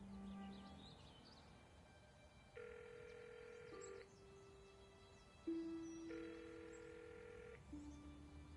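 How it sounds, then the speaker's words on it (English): Video game telephone: a short tone, then a sequence of steady electronic dialing tones at an even pace, and the line ringing back, faint and alone with no talk. "Hang on, I'll phone him now."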